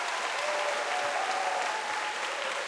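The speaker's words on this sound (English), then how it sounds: "please give a warm round of Thank you. applause." A convention crowd at an opening ceremony gives sustained applause, a dense, even roar of clapping that fills the space, with faint murmurs under it.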